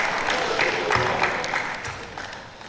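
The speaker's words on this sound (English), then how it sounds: "One more time, a round of applause for the Honorable Commissioner." A crowd applauds steadily at a moderate distance at a seminar in Abeokuta, Nigeria, the clapping fading slightly toward the end.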